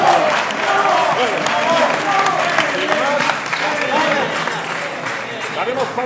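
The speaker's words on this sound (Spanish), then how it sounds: "recibamos con un fuerte aplauso" Sustained applause from a large audience at a university student music contest in Valencia, dense clapping throughout with voices mixed in underneath.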